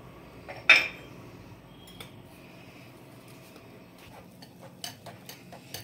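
A utensil clinks and scrapes in a bowl while orange cake batter is mixed with baking powder and baking soda, with one sharp clatter near the start followed by softer, scattered taps and scraping.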